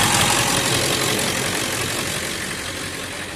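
A 1999 Ford F350 with a 7.3 turbo diesel idles after a cold start, a dense, steady clattering rumble heard up close and easing slightly in loudness.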